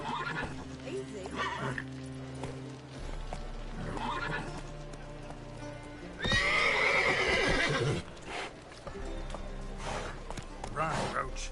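Roach, the horse in The Witcher video game, gallops with clip-clop hoofbeats and a whinny under game music, with a louder burst of motion midway and a rider's voice calling out.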